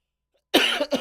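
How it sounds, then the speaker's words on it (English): A sharp, close cough bursts out after a moment of silence, followed by a second shorter cough. "No, I got to cough again."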